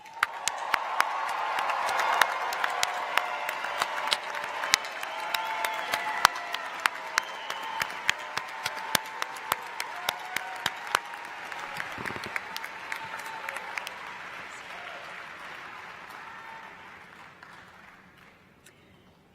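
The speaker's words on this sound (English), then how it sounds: "let's give a round of applause for the class of 2024, the latest group of UCF-trained physicians" An audience at a medical school commencement applauds the graduating class, sustained dense clapping from a large crowd that gradually fades toward the end.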